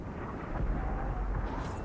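Tank gun shot from a T-49 in World of Tanks, a deep rumbling boom with a sustained low roar lasting the whole short moment, loud and without talk.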